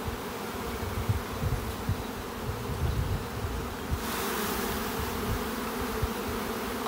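Honeybee workers buzz densely around an open hive in a beeyard, a constant close swarm drone with individual bees passing near, and no voices.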